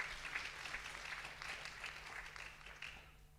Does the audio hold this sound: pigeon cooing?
no